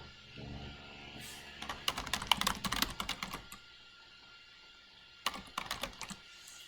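Keys clack on a computer keyboard in quick bursts while text is typed over page elements, with a pause in the middle before a short final flurry, close and clear.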